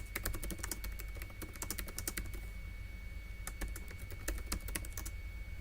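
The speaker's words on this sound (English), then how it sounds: "So I'll just type in." Fast keystrokes clatter on a computer keyboard in irregular bursts with short pauses, quiet and close over a low steady hum, with no talking.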